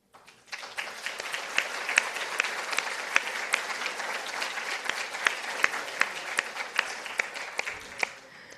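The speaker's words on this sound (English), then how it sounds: "if you could just stand and we'll give you a round of applause" A room full of people claps steadily for elected officials standing at a university event, a dense sustained applause of many hands that lasts several seconds before fading.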